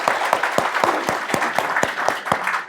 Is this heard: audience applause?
yes